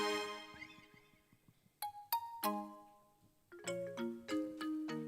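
A phone ringtone of bright, bell-like chimes plays quietly: a few isolated ringing tones, then a quicker cluster of melodic chiming notes, heard alone without talk.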